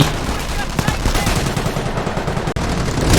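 Machine gun fire rattles in the Company of Heroes World War II strategy game, dense continuous bursts with rapid overlapping shots, loud and close, briefly cutting out near the end before resuming.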